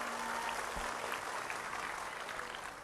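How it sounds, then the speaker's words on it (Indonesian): Audience applause for Pak Pratekno at a religious gathering in Bojonegoro, a dense, steady wash of many hands clapping, fairly distant and even throughout with no talk over it. "Tepuk tangan untuk Pak Pratekno."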